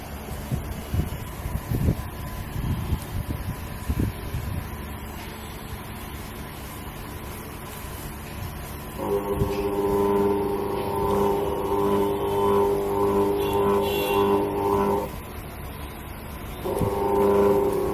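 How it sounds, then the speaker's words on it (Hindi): A Samsung WA82VAL top-load washing machine running its drain motor: a steady mechanical hum with a tonal whine that starts partway through, stops, then resumes. "ड्रेन मोटर ऑपरेट हो चुका है."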